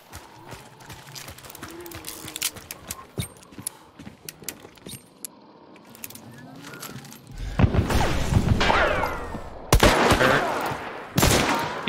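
Gunfire in the video game Hunt: Showdown comes as scattered sharp shots amid clattering footsteps and mechanical clicks, followed by a louder, dense burst of booming shots and debris, with voices talking during the fight.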